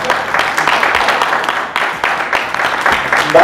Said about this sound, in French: c'est un petit applaudissement fait ça